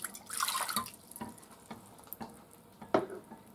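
Water splashes and drips into a pot or measuring cup as a cup of water is combined for cranberry orange sauce in a home kitchen, a few irregular splashes and trickles, close and fairly quiet, with no talking.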